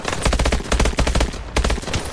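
Rapid gunshots in Call of Duty Advanced Warfare ring out as a dense, loud automatic burst of repeated cracks, with a short gap before a few more shots.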